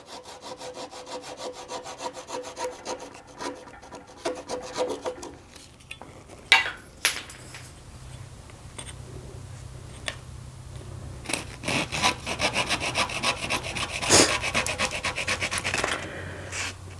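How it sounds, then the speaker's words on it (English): A hand saw cuts through a wooden honey dipper to part it from a lathe, giving close, rasping back-and-forth strokes with scraping wood noise and a few sharp knocks, the strokes grow steadier and louder toward the end. "I use a saw to gently part the dipper from the lathe"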